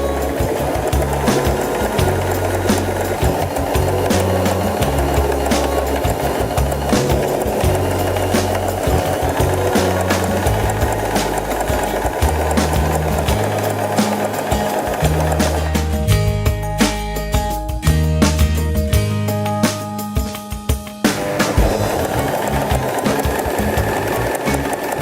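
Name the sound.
Janome 3016 sewing machine stitching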